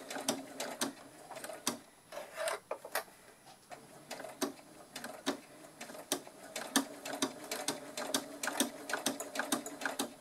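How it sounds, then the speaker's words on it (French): A sewing machine stitches bias binding onto mesh at a slow pace, giving a steady run of light mechanical ticks and clacks with short pauses, close and fairly quiet. "Donc je couds jusqu'en bas et à la fin, j'oublie pas mon point d'arrêt."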